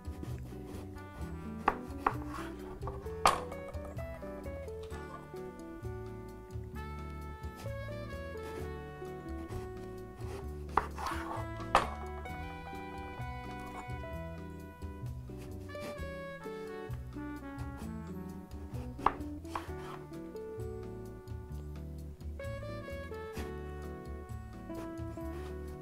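A knife slices eggplant thinly by hand on a board, giving steady, quick chopping taps that are soft and close and run throughout without talk.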